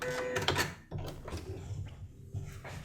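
Short bursts of a sewing machine stitching back and forth across a quilt seam, with mechanical whirring runs broken by brief pauses and handling clicks, close and fairly loud.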